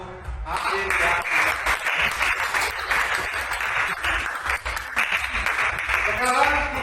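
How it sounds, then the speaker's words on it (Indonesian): An audience claps steadily at a group discussion session, a dense, continuous wash of applause lasting several seconds, with a voice speaking over it. "Mari kita sama-sama memberikan aplaus untuk hasil yang"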